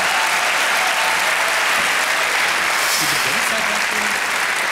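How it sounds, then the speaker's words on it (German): A television game show studio audience bursts into loud, dense, continuous applause for the notary, a thick roar of clapping with faint voices buried underneath. "Ein Applaus für unseren Notar, meine Damen und Herren"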